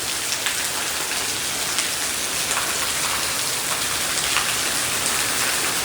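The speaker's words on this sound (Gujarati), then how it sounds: "લગભગ 15 મિનિટ જેવું થયું છે અને આવો ને આવો વરસાદ થઈ રહ્યો છે." Heavy rain pours down steadily near a cow shelter, a dense, even hiss of drops on surfaces with no pause and no voices.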